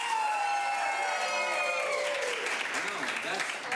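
An audience cheers and claps loudly to vote for a film at a live screening showdown in Portland, a dense roar of applause and whoops that swells and then tapers off.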